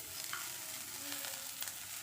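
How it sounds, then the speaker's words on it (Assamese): Papaya and fried fish are stirred in a frying pan, a steady soft sizzle with faint scraping strokes, quiet and continuous without talk. "এইখিনি লৰাই লৈ আৰু 10 মিনিটমান সময় ভাজি থাকিম"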